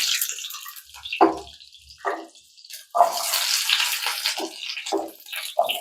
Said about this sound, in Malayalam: ഈ ചൂടായ വെളിച്ചെണ്ണയ്ക്ക് ഉള്ളിയാണ് ആദ്യം ഇട്ട് കൊടുക്കുന്നത്